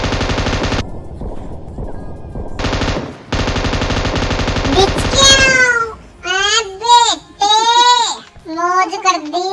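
Rapid automatic gunfire from PUBG Mobile, loud bursts of tightly spaced shots that cut off abruptly, followed by an excited voice chattering over the game.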